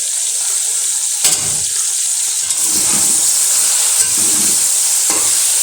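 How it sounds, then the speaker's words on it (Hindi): Green chilies frying in a chicken karahi, a steady loud sizzle and hiss with occasional bursts of spitting as they hit the hot oil. "अब हम इसके अंदर डालेंगे हरी मिर्च।"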